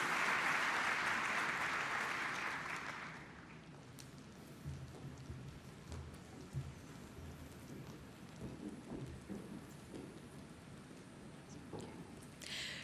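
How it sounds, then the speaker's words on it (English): Applause from a large audience at a formal ASEAN Indo-Pacific opening ceremony starts as a dense, loud wash of clapping, cuts off after about three seconds and drops into quieter hall ambience. "Let us give the biggest round of applause for A Million Dreams."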